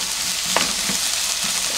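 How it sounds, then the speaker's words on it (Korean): Onions stir-fry in a pan for a Korean jjajang sauce, a dense, steady frying hiss with a few faint clinks and scrapes and no voices. "양파를 먼저 충분히 좀 볶아줘야 되는데 너무 오래 걸려요."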